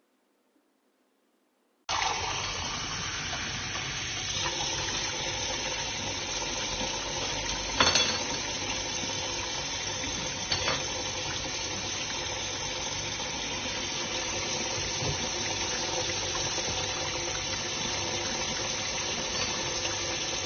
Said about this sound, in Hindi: उनके घर के नल से जो पानी आ रहा है